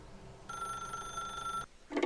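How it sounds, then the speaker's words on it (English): A telephone rings in The Stanley Parable video game, one steady electronic ring lasting over a second, loud and close, followed by a short clatter. "If you can truly place your faith in another, then pick up the phone."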